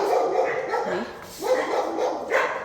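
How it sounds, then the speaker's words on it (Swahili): Dogs barking around a house, a few short barks and yips in quick bursts, fairly close, with a voice talking faintly underneath. "Mbwa zinapweka, zinapiga kelele."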